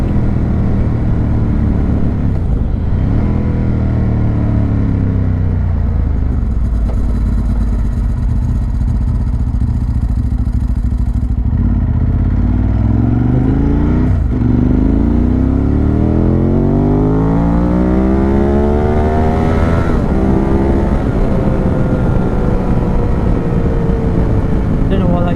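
A smooth-running motorcycle on a race track track day, its engine loud and close with rising and falling revs as it accelerates and shifts through gears, continuous throughout.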